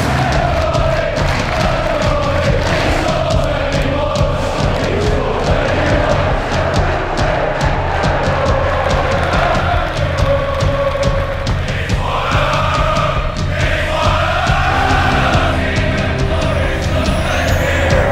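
A packed football stadium crowd roars and chants in a loud, continuous wall of cheering that never lets up, with voices rising and swelling together.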